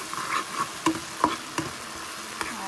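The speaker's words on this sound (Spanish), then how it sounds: "Vamos ahora a echarle, a sofreírle el sazón a las habichuelas." Seasoning sizzles as it is sautéed for beans in a pan, with a soft frying hiss broken by several sharp stirring scrapes and taps at an uneven pace.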